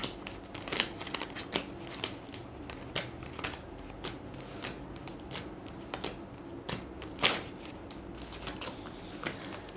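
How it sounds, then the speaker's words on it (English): Tarot cards being shuffled and laid out in a steady run of soft papery riffles and flicks, with sharper snaps now and then, close and fairly quiet with no talking. "Let me arrange your cards first"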